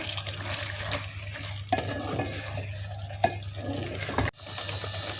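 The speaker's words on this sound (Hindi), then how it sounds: "अब हम इसको अच्छी तरह इस मसाले में फ्राई कर लेंगे।" Half a kilo of minced meat, mutton or beef keema, fries in masala and gets stirred, giving a steady wet sizzle with a low hum beneath, a few scraping clicks and a brief sharp knock near the end.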